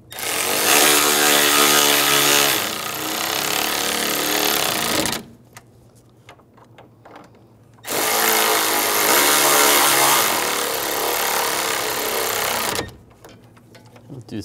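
A power tool drives and tightens radiator bolts on a 2013-2016 Dodge Dart 2.4L, running in two long, loud whirring bursts of about five seconds each, separated by a short quiet gap.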